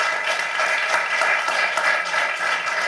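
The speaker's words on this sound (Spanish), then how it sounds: "Os agradezco el aplauso" Steady applause from an audience at a business magazine launch presentation, a dense even patter of many hands clapping throughout, fairly close and with no talking over it.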